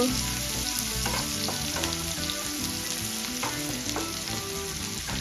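Onions frying in hot oil until golden for a dry Bombay duck (bombil) curry, giving a steady, dense sizzle with light crackle that stays loud and even throughout, without any talking.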